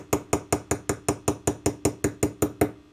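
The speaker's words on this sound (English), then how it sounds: "I'm wondering if I just tap on it, it'll come over. I'm going to go to a smaller hammer." Small hammer tapping on a metal safety pin, about thirteen sharp, evenly spaced strikes at a steady quick rhythm, close and clear with no talking.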